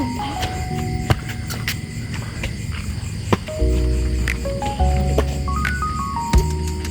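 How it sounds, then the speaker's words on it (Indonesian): Crickets chirping at night around a nature resort with an infinity pool near Yogyakarta, thin repeated calls layered over a steady buzzing background with occasional sharp clicks, fairly close and without talking. "malam-malam itu suara jangkrik terdengar."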